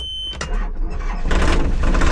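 Tractor engine cranking and catching on a job site, a brief starter churn followed by a rough, rumbling idle that builds and grows louder, close by with no talk.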